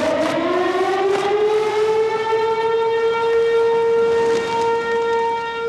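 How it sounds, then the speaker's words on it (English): The high tide warning siren in Venice wails loud and steady, a rising then sustained harmonic tone with faint background noise and no speech. "Venice often comes in the form of a siren these days, a warning that another high tide is on the way."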